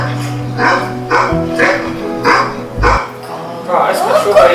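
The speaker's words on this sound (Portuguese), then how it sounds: "Ah, esse cachorro aí" A dog barks repeatedly in a steady series of sharp, close barks, roughly one each half second, with yips and whimpery tones mixed in and other sound running underneath.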